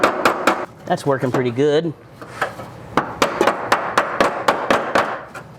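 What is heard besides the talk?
air hammer seam ripper cutting welds on MGB fender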